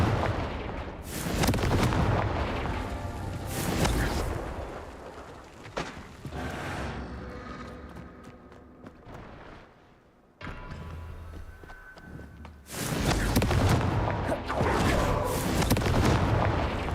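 Fiery spell explosions from the Confringo curse in Hogwarts Legacy burst repeatedly as loud, booming blasts, with a short lull before another heavy volley of crackling detonations.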